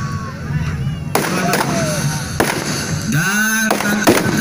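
Firecrackers go off at a Betawi celebration, where people wear strings of them on their bodies: several loud, sharp bangs crack out in an uneven series, with noisy crowd sounds and scattered voices between the blasts.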